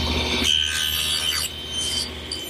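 A saw cuts tenon cheeks in wood held upright in a vertical jig, giving a close continuous rasping rub with slight shifts in pitch as the cut progresses.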